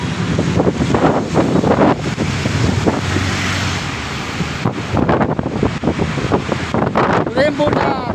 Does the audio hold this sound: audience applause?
no